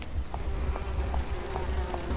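Bees buzz steadily in the video game Grim Fandango, a close, continuous drone marked by faint, regularly spaced pulses.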